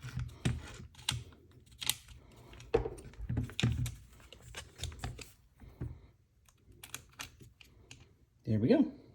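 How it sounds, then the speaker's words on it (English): Small screws being unscrewed and pulled from the trigger assembly of a Kriss Vector, heard as light, close, irregular ticks and clicks of a driver and metal parts, with quiet talk over them. "Final screws coming out here."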